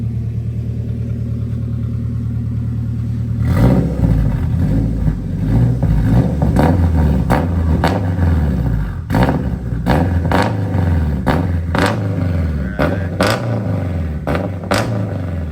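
Turbocharged Acura RSX engine idling, then revved in several sharp bursts, each rising and falling back to a throaty idle, loud and close from behind the car with no talk.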